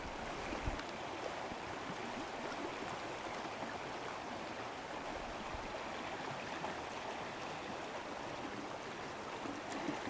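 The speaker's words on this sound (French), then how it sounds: "la rivière est à peine dégelée au milieu" A river barely thawed in the middle, flowing on a snowshoe outing, gives a steady, even wash of running water that stays faint and constant with no talk.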